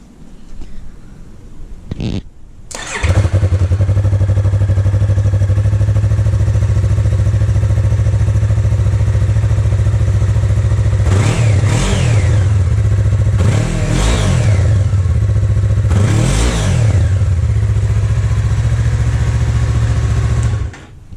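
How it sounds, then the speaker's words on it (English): A 2020 Yamaha R3 motorcycle starts with a short crank, then idles with a loud, raspy exhaust drone close by, broken by three quick blips of the throttle. "This exhaust has to go. This does not sound pleasant at all."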